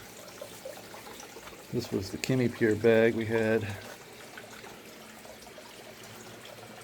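Water is poured into a grow bag in a short splashing burst in the middle, over quiet background, while a person talks nearby.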